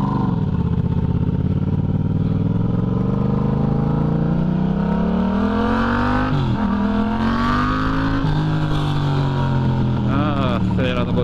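A Yamaha MT-07 motorcycle revs and accelerates hard on a street in Porto Alegre, a loud, close engine note rising and falling through the gears and sustained across the whole stretch without any talking.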